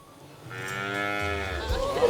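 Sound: young bull mooing on a farm

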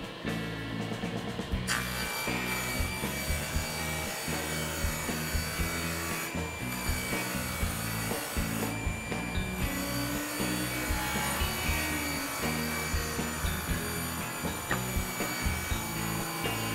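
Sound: table saw cutting wood

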